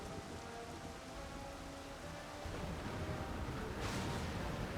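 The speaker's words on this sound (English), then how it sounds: "I like the way the storms looks in this cinematic" Thunderstorm from a Final Fantasy XIV cinematic: steady heavy rain hiss with low rolling thunder rumbling underneath, growing slightly louder partway through, with no voices.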